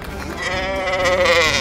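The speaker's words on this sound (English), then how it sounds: "Which animal says baa? Oh, it's a sheep." A sheep gives one loud, close, wavering bleat lasting over a second, heard alone without talk.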